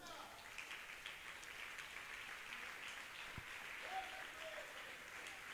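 A church congregation applauding during a sermon, a soft, steady wash of distant clapping with a faint voice briefly audible.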